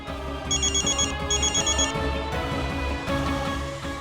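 A telephone rings inside a family home in a Hindi sitcom scene, giving two bright, repeating bursts of ringing over a steady bed of background music.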